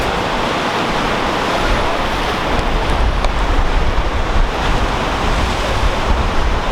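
Ocean waves wash continuously beside a seaside dinner spot, a loud, dense roar of surf mixed with wind buffeting the microphone.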